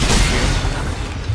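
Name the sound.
gunshot in video game Dead Space 2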